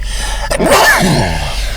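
A single sharp sneeze, close and loud, with a quick intake of breath before the burst.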